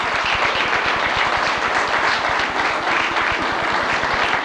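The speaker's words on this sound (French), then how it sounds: "Une bonne main d'applaudissements." Loud, sustained applause from a large audience celebrating the tenth anniversary of a women's association in Saint-Joseph-de-Beauce, with rhythmic, thick clapping filling the room.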